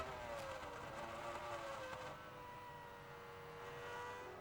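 Formula 1 cars race around the track in the game F1 2000, a continuous high engine whine rising and then easing as they pass, moderately loud with no voices.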